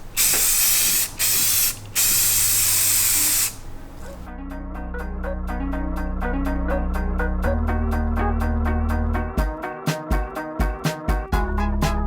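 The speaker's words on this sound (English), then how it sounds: "I got a first coat of paint on the frame itself." An aerosol can spraying paint onto a go-kart frame, with several loud bursts of hissing spray, then a clattering, rhythmic mechanical rattle and knocking that grows more broken toward the end.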